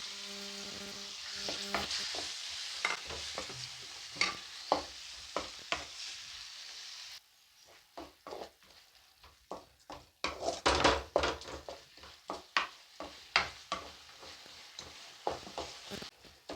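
Chopped tomatoes frying in a pan for Telugu-style dry fish curry, a steady sizzle broken by repeated sharp scrapes and knocks of a spoon stirring and smashing them, quieter and sparser midway before louder stirring returns.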